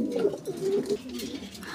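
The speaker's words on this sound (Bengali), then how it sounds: "দর্শক এখানে এক পিস কবুতর দেখতে পারতেছেন" A pigeon offered for sale at a Bangladeshi pigeon seller's stall gives a few soft, low cooing calls, close and fairly quiet.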